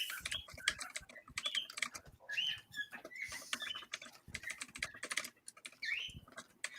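Rapid, uneven clicking of keys on a light-up computer keyboard with raised keys standing above the deck, quiet and close, in irregular bursts with brief pauses.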